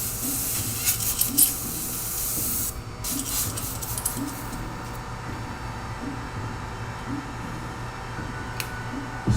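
An airbrush sprays a light coat of paint onto an RC car body with a steady close hiss, a low compressor hum beneath it and a few brief pauses in the spray.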